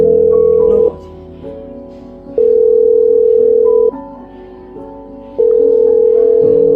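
Telephone dial tone on a call being placed, a steady beeping tone in long on-off bursts of about a second and a half with short gaps, loud and close, with faint background noise between.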